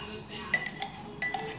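A metal spoon clinks against a dish while bread ingredients are prepared in a home kitchen: two quick pairs of sharp, bright taps, close and fairly quiet.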